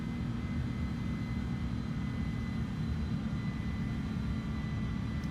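Steady, loud drone of an aircraft engine in Flight Simulator as the throttle is pushed up, a continuous low rumble with a faint whine above it that holds evenly throughout, no voices.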